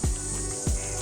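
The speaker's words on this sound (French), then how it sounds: "Avec les espèces de grillons cigales là" Crickets or cicadas chirp in a Mumbai garden, a steady high, dense buzzing drone that fills the air, with two soft low thumps nearby and no talk.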